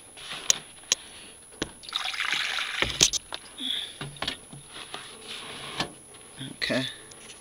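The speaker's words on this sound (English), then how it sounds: "I'm gonna pour some water down, and that's where the water goes." Water is poured into a cracked drain pan beneath a furnace coil, giving a brief splashing trickle mixed with scattered clicks and knocks, close by, before some faint handling noises follow.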